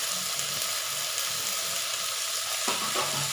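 Vegetables for fenugreek leaf sambar sizzle steadily in a pan while a spoon stirs through them, giving a close, constant frying hiss and a brief clatter of stirring near the end.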